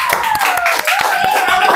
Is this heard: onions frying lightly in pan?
no